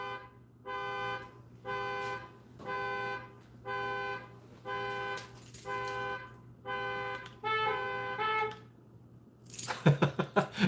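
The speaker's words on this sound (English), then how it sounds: "Everybody's alarms are going off." Several electronic alarms beep in repeated tonal bursts, about a second each with short gaps and shifting pitch patterns, ending in a denser flurry of chirping tones over a steady low hum.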